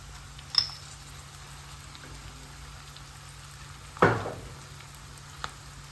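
Two tablespoons of tomato ketchup hitting a hot pan for chilli paneer over low flame, a soft steady sizzle with a sharp burst of hissing partway through, near and alone.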